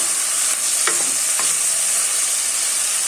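Onions sauté in a hot pan with a loud, steady sizzle and hiss, close up, while a couple of brief stirring scrapes cut through early on. No one speaks.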